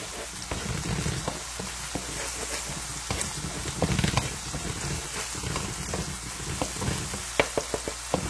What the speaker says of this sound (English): Simply make your eggs crumbled.